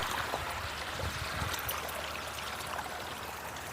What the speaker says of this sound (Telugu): ఇగో నీళ్ళు అట్లా పడుతున్నారు చూడండి